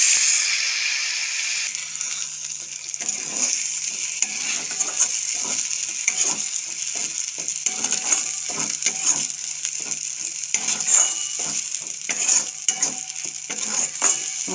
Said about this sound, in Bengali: মশলাটা বেটে নিয়েছি, এখন ওই তেলের মধ্যে আমি দিয়ে দেবো।